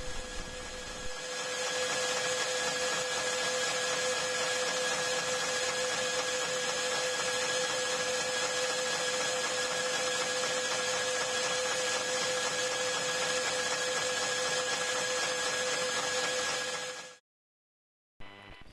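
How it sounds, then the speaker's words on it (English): Metal lathe taking a finishing facing pass on the underside of a knob: a steady machine hum with a constant whine runs evenly and fairly loud for most of the stretch, then cuts off abruptly near the end. "Smoothly feed out on the X-axis to perform a finishing facing pass on the underside of the knob"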